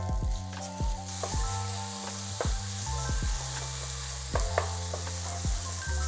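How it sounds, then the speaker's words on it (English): Potatoes, onions and chicken fry in oil in a catering-size pan, giving a close, steady sizzle broken by repeated scraping and clacking from stirring. "We'll keep frying them until we have some nice color on our potatoes and onions."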